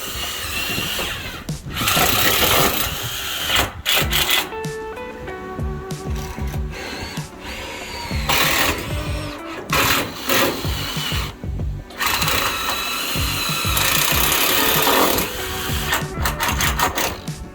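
A power screwdriver drives screws through decking into galvanized steel purlins in repeated loud, close whirring bursts with short gaps between them, alongside clattering on a worksite.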